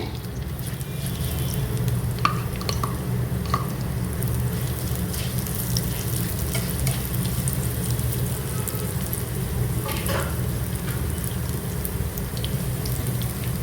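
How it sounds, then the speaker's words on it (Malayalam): Fried onions tipped into a hot pan of oil and stirred for chickpea biryani, giving a steady broad hiss with occasional clicks and scrapes throughout, no talking. "ഇതിലേക്ക് നമ്മൾ നേരത്തെ ഫ്രൈ ചെയ്ത ഓണിയൻ്റെ 1 കപ്പ് ഞാൻ ഇടുകയാണ്"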